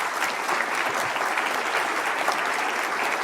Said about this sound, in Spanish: Un aplauso para todas y todos ellos.